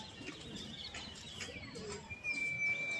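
Gola pigeons in Kanpur coo softly and repeatedly, close by, with a thin high chirp joining near the end over a low background murmur.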